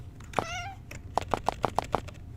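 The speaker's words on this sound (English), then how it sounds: "Cat is back in my lap." A house cat meows once, a clear drawn-out cry, followed by a rapid series of six short, soft chirping mews close to the listener, over a low background hum and with no talking.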